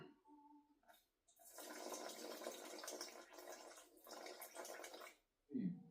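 About 60 grams of water pours into a container for a sourdough starter, a soft, steady splashing stream lasting several seconds with a brief pause midway, followed by a short low sound at the end.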